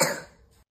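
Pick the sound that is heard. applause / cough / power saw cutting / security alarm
cough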